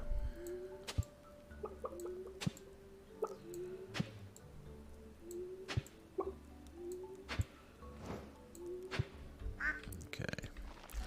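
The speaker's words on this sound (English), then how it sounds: "Get out of the way, duck." Repeated short quacks from a duck in the farming game Stardew Valley, roughly one every second or two, sounding through soft game music and small clicky farm effects, moderately close and clear.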